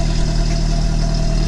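A Nissan Sentra SE-R Spec-V with newly installed headers idles with a loud, steady, deep exhaust drone, close to the microphone, the low rumble holding even throughout the short span.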